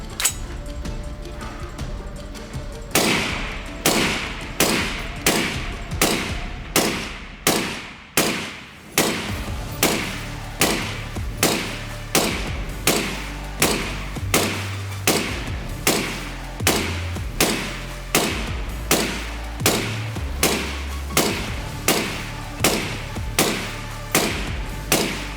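Suppressed KGM R556A2 rifle firing 5.56 NATO rounds in a long, steady string at about two shots per second; each report is loud, sharp and close, with no talking.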